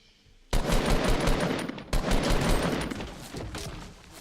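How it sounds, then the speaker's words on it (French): Loud bursts of automatic gunfire in Fortnite, two rapid volleys separated by a short break, dense and close over the game's background sound. "Ça tire derrière."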